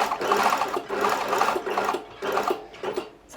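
Sewing machine chaining on stitches, a steady close whirring run that dips briefly a few times between short bursts of stitching, with no voices.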